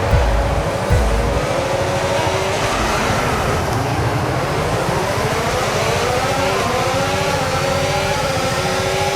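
A pack of Formula 1 cars in the F1 25 racing game launch off the grid in Spain. Several high engine whines rise together in pitch, forming a loud, continuous roar with no talking.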